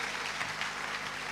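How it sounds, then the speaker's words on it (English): Audience applause at a government town hall, a steady, dense wash of clapping that holds evenly throughout without any talk over it. "Can we give Honorable Kun another round of applause?"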